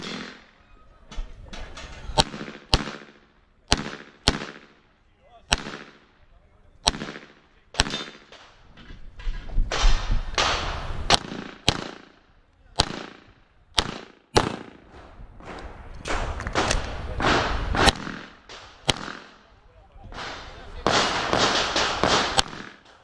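Pistol shots ring out during a stage of a practical shooting competition at an outdoor range, roughly twenty sharp, loud cracks fired in fast irregular bursts with brief pauses between strings, close to the shooter's body-mounted camera.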